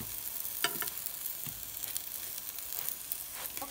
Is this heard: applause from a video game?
no